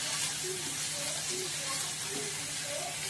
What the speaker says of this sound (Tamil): இது கொஞ்சம் நல்லா வதங்கிட்டே இருக்கு